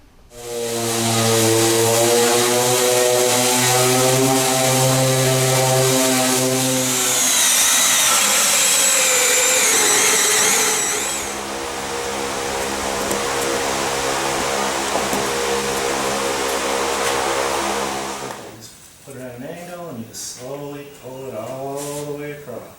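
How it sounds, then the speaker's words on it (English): A power sander runs over a glued workbench top with a loud, steady whirring whine and hiss for about eighteen seconds. It then stops, and a voice follows. "I'm going to sand it down just a little bit, then we're going to put the top on."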